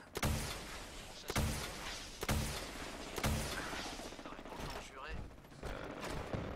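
Gunfire in Fallout 4, a run of loud, booming shots at roughly one-second intervals, followed by quieter rattling shots and game noise, with a player talking alongside.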